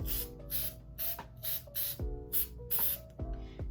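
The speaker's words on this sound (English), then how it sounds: "take your Podge clear acrylic and spray down the beads" Mod Podge clear acrylic spray sealer hisses onto beads in about seven short bursts, close and fairly loud, each separated by a brief pause.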